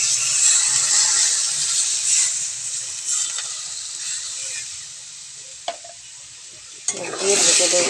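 Two small tomatoes sizzling loudly in a pan while being stirred, a close, bright frying hiss with scraping spoon strokes that fades midway, broken by a couple of sharp clinks, then surges again at the end.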